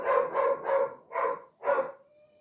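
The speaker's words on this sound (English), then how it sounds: "that's the dog's barking" A dog barks five times in quick succession indoors, fairly close, with short gaps and the last bark trailing into a faint tone, no talking.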